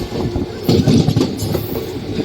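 A passenger train cruising steadily at about 90–100 km/h between Tiptur and Arasikere on the Bengaluru–Talaguppa route gives a continuous close rumble with rhythmic wheel clatter, swelling briefly louder midway.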